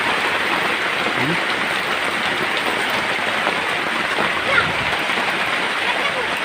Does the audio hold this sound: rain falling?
yes